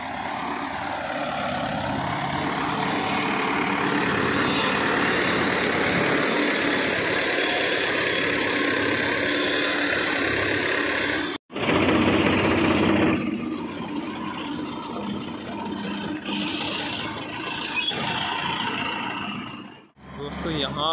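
A Mahindra Yuvo tractor idles at a weighbridge at night, hitched to a heavily loaded four-wheel sugarcane trolley, its steady engine rumble continuing loudly throughout while someone talks over it.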